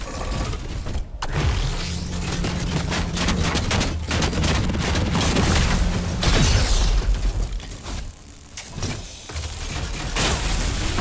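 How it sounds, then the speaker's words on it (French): Mecha in Fortnite blowing apart under fire from two shooters, with dense rapid gunfire bursts and heavy booming blasts filling the whole stretch, loud and continuous with brief lulls. "En fait, ils étaient deux à me tirer sur le mecha. C'est pour ça qu'il a explosé aussi vite."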